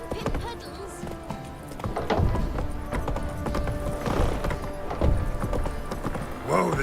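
Roach the horse trotting in The Witcher 3, with uneven clip-clop hoofbeats close by and occasional louder thuds over a low ambient background.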